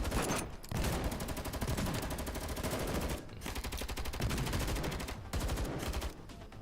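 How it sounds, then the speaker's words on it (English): Sustained rapid gunfire from the Girls Frontline game with brief pauses between bursts, loud and close, and a heavy low rumble suggesting a Goliath unit exploding amid the shooting. "Are those gunshots? And was that a sound of a Goliath exploding?"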